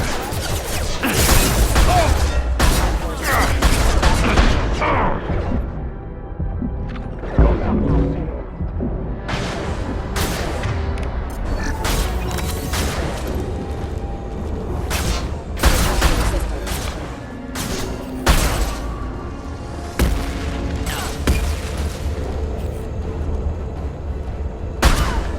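Rapid bursts of gunfire fill a Mass Effect 2 combat scene, with dense repeated shots and crashing impacts over a constant low rumble, plus a few louder blasts, running steadily throughout.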